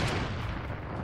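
Gunfire in the video game Fortnite comes from a house, heard as a dense, rumbling burst of booming shots that fill about a second, loud and close, without talking.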